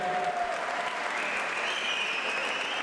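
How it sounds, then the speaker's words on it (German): Spectators applaud after an amateur boxing bout at a Hessian championship final, with a steady wash of clapping and a faint tonal whistle or ring running through it. "nochmal ein Applaus für Alexandro, ein Applaus für Leon für dieses tolle Duell hier."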